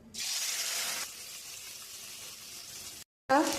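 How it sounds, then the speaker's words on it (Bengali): Marinated fish fries in white oil in a wok, giving a steady close sizzling hiss for about three seconds. It cuts out briefly before a voice starts. "এবার মাছটা আমি সব ভেজে নেবো।"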